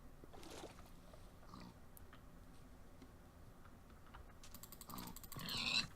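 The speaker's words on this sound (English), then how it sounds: "Come here, pig, before you die tonight." Pig grunts from a Minecraft game running the Better Than Wolves mod, a couple of short muffled snorts early on and a louder burst near the end over a low steady game background.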